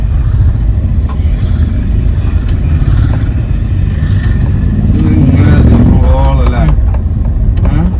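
Karnataka-registered vehicles, likely motorcycles, pass along an off-road forest track near a village, with steady loud engine noise throughout and a louder pass in the middle, while a voice talks over it.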